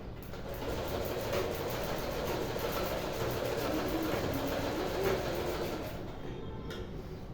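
Sewing machine running at home, a continuous even mechanical whir with fast rhythmic clatter, steady for several seconds before easing off near the end.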